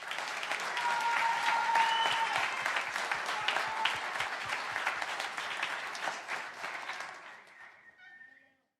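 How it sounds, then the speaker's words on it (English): Sustained applause for the juniors at a high school Christmas assembly fills a hall, dense clapping from a large crowd that swells early, holds steady, then tapers off and stops near the end. "Let's give them a round of applause."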